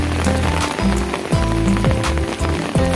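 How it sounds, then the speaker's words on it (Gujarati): Heavy rain pours steadily over a village near Talaja, a dense, continuous hiss of drops on surfaces that fills the whole stretch without pause. "અમારે ગામની અંદર અત્યારે વરસાદ ચાલુ છે"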